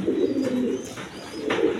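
Rajgolla pigeons, a breeding pair of quality birds with a big-sized male, coo in low, throaty rolling bursts close by, steady and continuous over a short stretch, with no voices.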